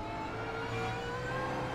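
BMW race car at full throttle on the Nürburgring GP circuit in the iRacing sim, a steady mid-pitched engine drone holding at high revs throughout, with no voices.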